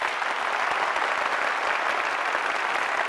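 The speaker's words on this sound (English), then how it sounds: "Take your hands and clap like applause." A large audience of band directors at an opening session claps loudly and steadily in unison, a dense, continuous wash of applause filling the room with no talk over it.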